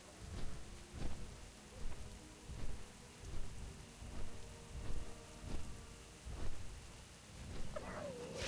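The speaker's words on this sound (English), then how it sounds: "Oh, the fucking rain noise, dude, please." Steady rain patters in a World of Warcraft game zone, a quiet, continuous wash with soft rhythmic swells repeating about every second.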